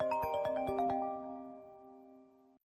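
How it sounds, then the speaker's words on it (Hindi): A mobile phone rings for an incoming call, playing a short melodic tone sequence of a few plucked notes that resolve into a sustained chord, then fade and stop abruptly, with no voices. "अच्छा रुक, एक कॉल आ रहा है।"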